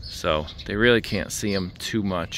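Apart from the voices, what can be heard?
No everyday noise stands out behind the speech.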